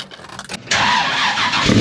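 A car engine cold-starts close by: after a second of quiet handling noise, it catches and settles into a loud, steady, rough idle.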